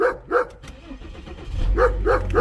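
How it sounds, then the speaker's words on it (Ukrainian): A Mercedes-Benz S320 CDI W220 diesel cranking from a cold start and catching into a low, steady idle rumble partway through, while a dog barks loudly and repeatedly nearby. "Це реально без, без брехні холодний пуск."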